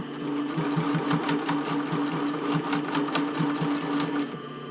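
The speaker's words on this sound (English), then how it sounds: "I'm going to go back and sew about half it since I did the basting" Sewing machine running a basting stitch along a bra band, a steady close rhythmic whir of needle strokes lasting nearly the whole stretch before stopping abruptly.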